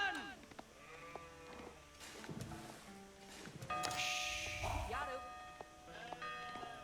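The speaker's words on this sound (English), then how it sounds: "he snuck a sheep right from underneath the nose of Yo-Yo." Sheep bleat in a medieval real-time strategy battle game, several calls rising over busy game sounds and unit noises, moderately loud throughout.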